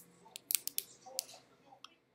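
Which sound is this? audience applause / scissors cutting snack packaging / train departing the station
scissors cutting snack packaging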